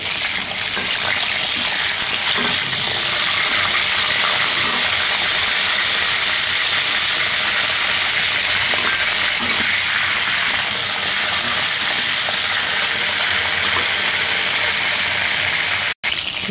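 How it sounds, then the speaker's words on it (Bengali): Marinated spicy chicken roast pieces fry in hot oil, a loud, close, unbroken rushing sizzle that holds steady for the whole stretch before cutting off abruptly. "তেল গরম হয়ে গিয়েছে, এর ভেতর এখন আমি ম্যারিনেট করা রোস্ট দিয়ে দেব।"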